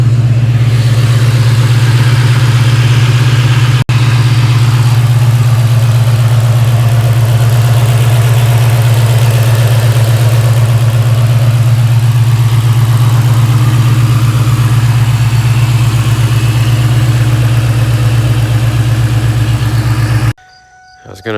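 A 2003–2004 Ford Mustang Cobra Terminator V8 running on E85 idles steadily, a loud, close, even low rumble with a faint ticking of injectors, cut off abruptly at the end.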